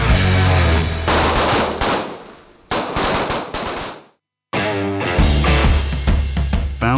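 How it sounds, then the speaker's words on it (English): Loud rapid gunfire from a university cadet marksmanship team shooting, near bursts of overlapping reports that break into brief silence before resuming. "The easiest part of shooting is actually pulling the trigger."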